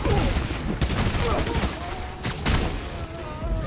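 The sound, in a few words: gunfire from enemies in the video game Spider-Man: Miles Morales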